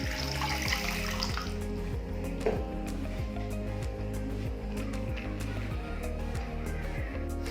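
Water splashes and gurgles steadily as it is poured into a pan while an herbal kasayam is prepared, with a few faint clinks and knocks of cookware alongside.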